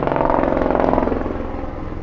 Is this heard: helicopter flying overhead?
yes